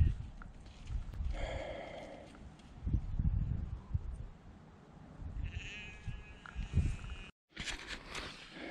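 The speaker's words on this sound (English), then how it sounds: "I'm doing a bit of sheep rounding." Sheep bleating outdoors along a footpath, a few faint, distant calls spread over several seconds amid low wind and rustling.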